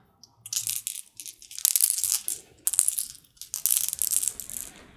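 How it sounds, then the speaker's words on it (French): Small stones clink and rattle in bursts of rustling, clattering contact, close up with short pauses between handfuls. "j'adore ce bruit de pierre là"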